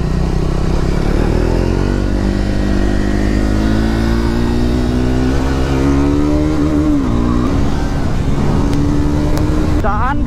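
A motorcycle's exhaust rumbles loudly and close by on a seaside ride at Mandarmani, the engine note climbing and dipping through repeated revs over a constant low drone.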